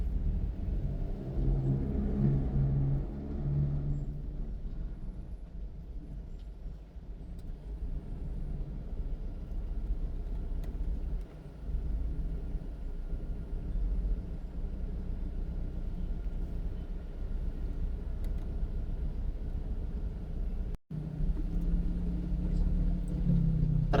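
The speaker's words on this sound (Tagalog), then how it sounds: "Traffic guys, traffic." Congested road traffic on the Kamuning flyover rumbles steadily with low engine drone and idling vehicles heard from inside a vehicle, continuous throughout with faint passing sounds.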